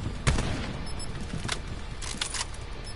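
Gunfire from a PS4 shooter video game: a loud burst of shots near the start, followed by further bursts of shooting over steady background game noise.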